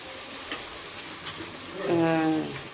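Ginger paste dropped into spices frying in a pan, a soft sizzle with light stirring that swells into a louder hiss toward the end, faint voices in the room.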